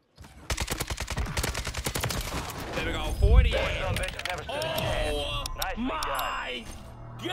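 Rapid automatic AK47 fire in Black Ops 6 on Rebirth Island, a dense burst of shots rattling at the start and then continuing with busier game sounds and other gunfire layered over it.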